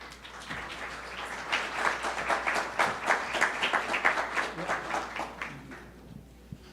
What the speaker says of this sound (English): please give a big applause to Team SafeSip